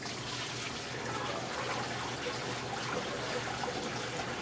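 Warm water pours into the hopper of a Stoelting 0231 custard soft serve machine while it is being flushed, a continuous moderate rushing trickle with no pauses.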